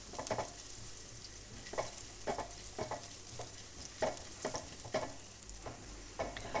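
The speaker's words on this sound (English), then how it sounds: "let's just saute the garlic and the ginger so it becomes nice and fragrant" Garlic and ginger sautéing in a pan for a vegetable and chicken stir fry, a soft steady sizzle punctuated by regular scraping stirs, close but quiet.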